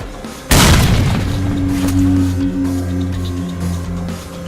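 A grenade goes off in the video game S.T.A.L.K.E.R. Call of Pripyat: one sudden, loud blast followed by a long, decaying rumble with a lingering ringing tone, and no talking.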